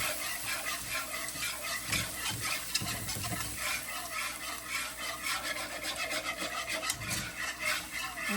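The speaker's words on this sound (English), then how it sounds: "you're gonna just add milk, whole milk. Just keep whisking." A whisk scrapes rapidly and rhythmically through gravy as whole milk is stirred in over heat. The brisk, close rasping strokes continue without pause.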